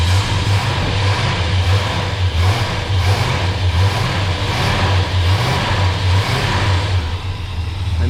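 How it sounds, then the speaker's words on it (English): Old Dodge Sweptline pickup truck engine idling after sitting for years, a steady close rumble with a rhythmic, slightly uneven pulse that carries on without pause. "I've started it. So it literally runs that good after sitting here for 3-4 years, something like that."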